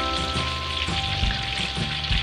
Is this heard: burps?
no